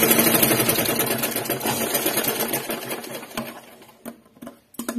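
A sewing machine stitches in a loud, rapid mechanical run that slows and trails off, followed by a few brief clicks and handling sounds near the end.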